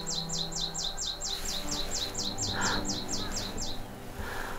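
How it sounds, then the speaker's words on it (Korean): Birds sing on a wild mountain at sunrise, with one bird repeating a rapid series of bright descending chirps about a dozen times. Softer calls sit over a steady outdoor hiss. "오늘 아침 새소리가 정말 청명한데요"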